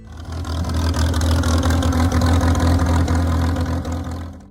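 A 1940s American 66 tractor engine runs close by, giving a loud, steady, throbbing rumble with no talk over it.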